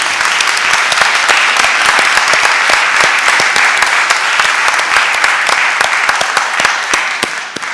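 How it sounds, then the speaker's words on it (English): Steady, dense applause from a full audience fills a council chamber during a committee meeting, loud and continuous throughout with no break in the clapping. "if you could just applaud them for all their hard work"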